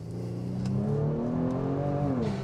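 A Kia Stinger with all-wheel drive in comfort mode launching hard with a slight wheelspin, its engine note loud, close and climbing steadily in pitch as it accelerates.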